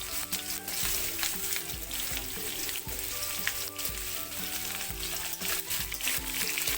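Potatoes fry and are stirred in a pan, a steady close sizzle broken by repeated scraping and clattering strokes of the spoon at an uneven rhythm.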